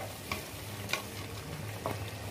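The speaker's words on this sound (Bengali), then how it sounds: "একটু সাবধানে নাড়তে লাগবে, বেগুনগুলো তো সব ভাজা, নরম হয়ে গেছে, ঘেটে যাবে।" Soft fried brinjal is stirred gently in a pan of hot oil for dudh shukto, a quiet sizzle broken by three light scrapes of the spatula, close and alone.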